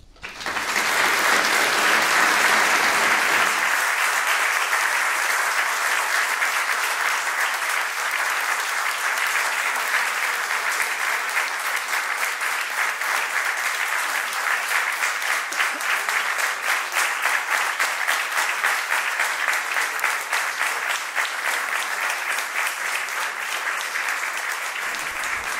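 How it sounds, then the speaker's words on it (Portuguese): Audience at a ceremony marking the donation of architectural archives, applauding a speech with sustained, dense clapping that starts abruptly, stays loud and fairly even, and runs on for well over twenty seconds. "Com tantas palmas, acho que devo continuar."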